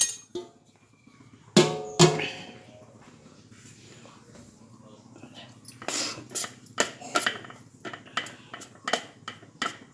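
A lid set over a pan of hot methi laddoo mixture in a home kitchen: two distinct metallic clanks, then lighter scattered clinks of utensils, with faint voices in the quiet background.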